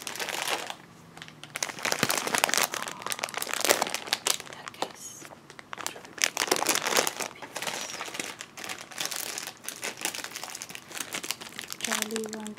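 Close crinkling of American candy wrappers, crisp, busy rustling that comes in dense bursts throughout, with soft voices now and then.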